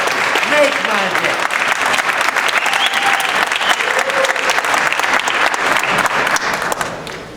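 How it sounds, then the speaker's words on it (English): A crowd at a Los Angeles neighborhood congress keynote claps loudly and steadily, a dense sustained wave of applause that fades slightly at the end. "you can give me a bigger mercy applause"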